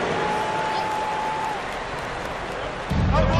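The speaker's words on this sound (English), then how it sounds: "A round of applause for your Bulls kid" Crowd applause at a basketball game between the Lakers and Bulls, a broad mass of clapping and cheering in an arena, with a tonal whistle early on and a rumbling crowd surge near the end.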